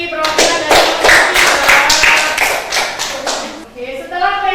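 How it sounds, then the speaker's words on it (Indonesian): A classroom of students claps for a classmate after a group presentation on traffic signs, a dense, steady burst of hand claps lasting several seconds, with faint children's voices mixed underneath. "Oke, tepuk tangan untuk Rizky perwakilan dari kelompok"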